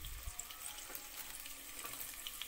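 Green peppers sizzle and fry in a pan for pasta, a steady soft crackling hiss with occasional small pops, quiet and close with no talk.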